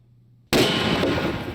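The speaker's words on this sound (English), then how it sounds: "That's a big explosion." A homemade pipe gun blowing up: after near silence comes a sudden, loud, explosive blast whose roaring wash of noise sustains and rumbles on rather than cutting off quickly.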